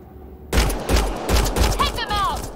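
Video game gunfire arrives as a rapid volley of loud, close shots in an even rhythm of about five bursts over two seconds, and a voice cuts in near the end.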